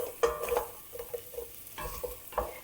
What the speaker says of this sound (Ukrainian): Спочатку присмажуємо цибульку. Далі морква.